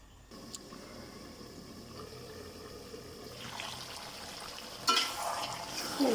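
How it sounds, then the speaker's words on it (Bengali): Beef cooking in a covered pot as it braises, a low steady bubbling simmer that turns into a louder hiss and clatter of lid or stirring toward the end, heard up close without voices. "মাংস সুন্দরভাবে মিক্সড করে এবার আমি ঢাকনা দিয়ে ঢেকে কষিয়ে নেব প্রায় 30 মিনিট।"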